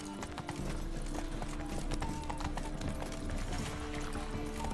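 Horse hooves clip-clop in The Witcher 3, a continuous loud trotting rhythm over dense game music and ambience, with no voices.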